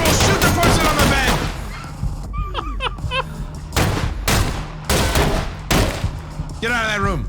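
Rapid bursts of video game gunfire crack through a frantic indoor firefight, loud volleys broken by short pauses while players shout over the shots.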